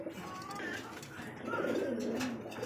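A pair of Pakistani teddy pigeons cooing softly in low, rolling calls, faint and steady with some background noise.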